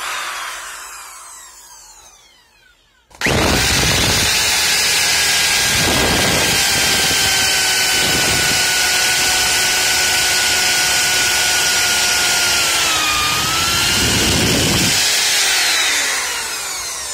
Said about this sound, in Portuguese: Agora sim, podemos começar a furar as madeiras.